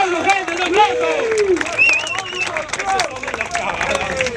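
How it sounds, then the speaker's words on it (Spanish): Crowd applauding and cheering at a Rapstyle 2019 rap battle final, loud clapping mixed with shouts and whistles, voices calling over the noise throughout, close and continuous. "¡Fuerte, fuerte, un aplauso, gente,"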